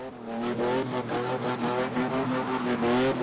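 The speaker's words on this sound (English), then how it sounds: "Engines rev, tires screech, and with a major adrenaline rush, Nalo Jivhuho delivers a perfect car spin" A spinning car at a South African car-spinning event, its engine revving hard and continuously with a rising and falling pitch while the tires screech, loud and close without a break.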